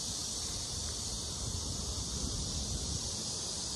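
Strong wind blows outdoors under thick clouds, a steady broad rushing roar with gusty rumble buffeting the microphone. It stays continuous and unbroken, with no voices.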